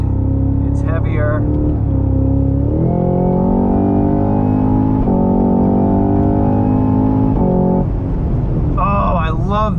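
A 2022 Cadillac CT5-V Blackwing's V8 revs hard from inside the car on a track, its deep engine note climbing and stepping through gears in loud, sustained pulls.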